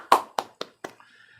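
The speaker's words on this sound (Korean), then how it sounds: "하나님께 영광의 박수 올리겠습니다" A few sharp claps from a church congregation during a Wednesday worship service, four or five distinct hand slaps in quick succession, close and brief rather than a full round of applause.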